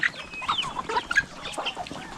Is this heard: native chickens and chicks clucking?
yes